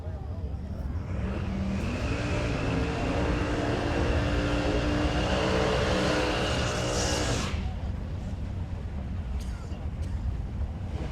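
Drag racing cars, a Mercury Cougar and a 1934 Ford Coupe, roar at a distance at a Hot Rod Drag Week strip, a rising engine howl building for several seconds then cutting off, leaving wind noise and crowd ambience behind.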